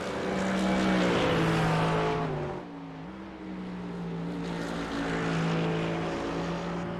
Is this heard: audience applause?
no